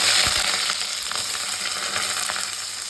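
Onion and curry leaves fry in hot oil with mustard and cumin seeds for a lady finger curry, a steady close sizzle with faint stirring and popping throughout.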